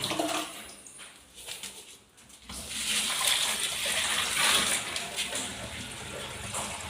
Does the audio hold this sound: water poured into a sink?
yes